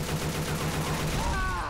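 Rapid bursts of gunfire from a zombie-shooter video game, Left 4 Dead 2, crackling steadily at close range for the whole moment while a voice talks underneath.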